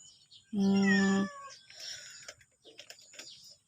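An ordinary mixed-breed mother cat gives one loud, close, drawn-out meow, followed by faint rustling and soft background sounds.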